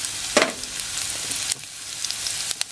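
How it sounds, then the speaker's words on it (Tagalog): Garlic dropped into hot cooking oil for sardines with spinach sizzles loudly with a sharp initial burst, then settles into a steady, close, crackling fry with a few small pops, no voices. "Then, pag mainit na itong ating cooking oil, ilalagay po natin yung ating garlic."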